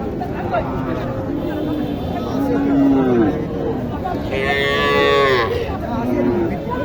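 Native heifers at a village cattle market in Naogaon low repeatedly, several drawn-out moos rising over a steady murmur of crowd chatter, with one loud near call late on.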